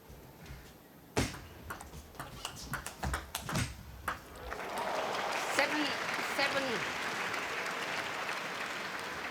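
Table tennis spectators at the Korea Open, a few sharp ball taps first, then a swell of steady crowd applause, with commentators talking over it.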